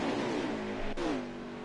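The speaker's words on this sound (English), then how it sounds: "Enjoy the sights and sounds of these trucks on NASCAR Heat 5 under 40 laps to go at Daytona" Race truck engines at Daytona in the NASCAR Heat 5 video game: a loud, sustained mechanical drone with rising and falling engine pitch and a brief sharp pass-by shift in the middle.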